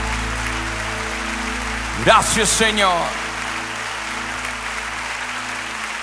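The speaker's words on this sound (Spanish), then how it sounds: "levante ese aplauso a tu Señor" Worshippers applaud during a Christian worship song, a steady wash of clapping under sustained music, with someone speaking briefly over it partway through.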